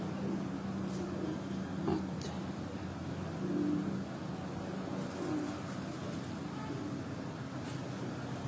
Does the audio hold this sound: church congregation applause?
no